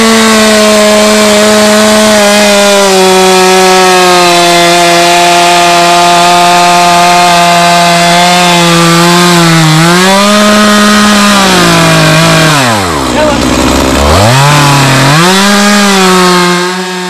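A chainsaw held at full throttle cuts into a tree being felled, a loud, close, sustained high whine that bogs down in pitch near the end under load before revving back up.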